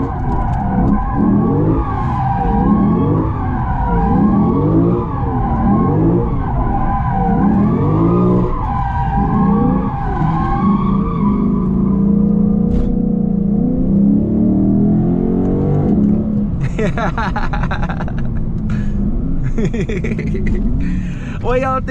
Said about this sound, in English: All right, so we're gonna see how it do donuts.